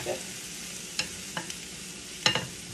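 Onions softening in a pan for a Caribbean salt cod pâté kòde filling, a low steady sizzle with a few sharp scrapes and clinks of a utensil against the pan, no talking.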